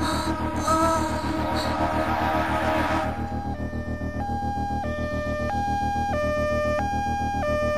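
An ambulance siren starts up loud and close, its two-tone wail stepping steadily up and down after a few seconds of busy street bustle with no talk.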